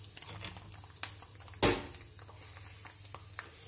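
Faint steady sizzling and bubbling from a hot pan, with a sudden louder splash and hiss as clotted-cream butter is poured in, then quiet crackling.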